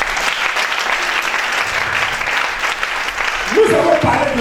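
A church congregation applauds with sustained, dense clapping from many hands at close range, lasting several seconds, as a voice rises over the end of the applause.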